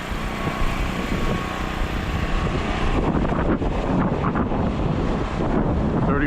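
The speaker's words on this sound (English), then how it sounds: "A little windy today." Gusty wind buffets a microphone outdoors near a construction site in Maine on a cold day, a steady loud roar with rougher surges.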